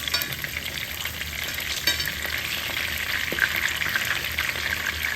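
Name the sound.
food frying in a HexClad pan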